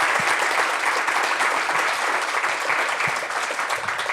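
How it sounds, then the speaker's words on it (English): An audience at a university discussion event gives a round of applause for a guest, continuous even clapping throughout with no pauses. "let's give him a round of applause"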